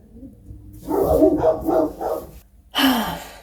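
Several dogs bark in an indoor home setting, with a run of four or five close, loud barks followed by a pause and one more sharp bark.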